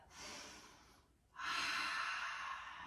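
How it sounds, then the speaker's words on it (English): Two deep breaths during a gentle beginner's yoga flow, a softer inhale followed by a brief pause, then a fuller, louder airy breath held steadily to the end, close to the microphone with no talking. "Full deep breath."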